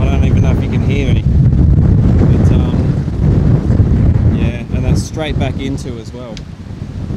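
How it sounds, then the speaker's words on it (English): Strong gusting wind buffets the microphone on a golf course at the Pacific Golf Club, a loud continuous roar with someone talking over it throughout. "Oh, that wind. The wind is stepping up a gear."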